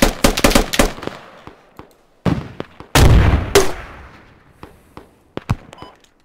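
Gunfire in the military shooter game Squad: bursts of sharp, loud shots, with a rapid volley at the start, heavier blasts near the middle and scattered single cracks after, some close and some distant.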